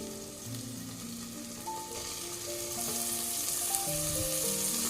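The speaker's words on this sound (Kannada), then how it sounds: "ಈರುಳ್ಳಿ ಚೆನ್ನಾಗಿ ಫ್ರೈ ಆಗಿದೆ ಈಗ ಟೊಮೆಟೊ ಹಾಕ್ತಾ ಇದ್ದೀನಿ" Onions frying in a pan as tomato goes in: a loud, close, continuous sizzle that swells and brightens toward the end, with a few tonal hums beneath and no speech.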